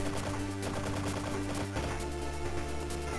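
Rapid gunfire and explosions from the video game Serious Sam Advance, a dense, loud burst of shots with rattling impacts that shifts midway into a heavier pulsing blast pattern over music.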